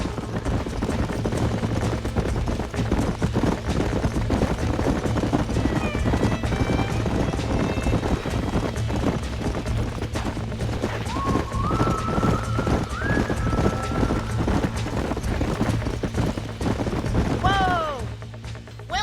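Horses in the Western game Red Dead Redemption, with steady clip-clopping hooves and whinnies rising near the end, heard over a continuous low hum and game sounds.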